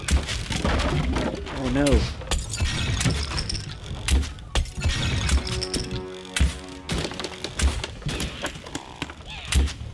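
A TNT explosion in The Lab VR game goes off as a chaotic burst of booming thuds, shattering and crashing debris, with a person reacting aloud over the noisy impacts.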